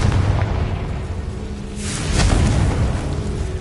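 A Confringo explosive spell goes off in Hogwarts Legacy, a broad rumbling blast with a sharp burst in the middle, layered over steady dense background noise with no speech.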